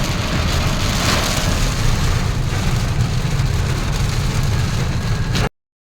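Rain pours over a car during a road trip, a dense, loud hiss and roar of falling water and road noise that stays constant until it cuts off near the end, with no talking.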